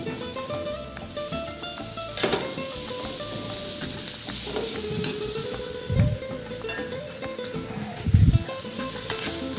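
A lamb chop sears in a frying pan with a steady, close sizzle, broken by occasional stirring and clatter and a few louder pops. No one speaks.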